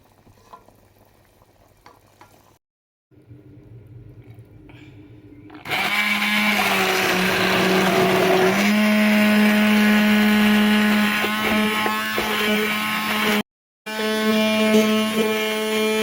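A blender purees onion and chili pepper for a dried okra sauce, whirring loudly and steadily for several seconds after a quieter start, then stopping briefly before starting up again.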